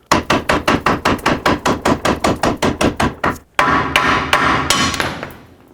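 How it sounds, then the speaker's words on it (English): A large hammer pounds a lower ball joint out of a 1997-2003 Ford F-150 front suspension, a steady run of about fifteen loud metallic strikes, then a pause followed by harder, ringing blows as the joint gives. "I'm going to take my large hammer and I'm going to hammer this down till the ball joint pops through"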